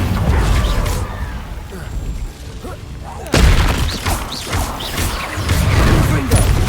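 The Incendio fire spell bursts out in Hogwarts Legacy: a rumbling fiery blaze, a lull, then a sudden loud boom and a continued roaring crackle of flames and impacts, with some voice underneath.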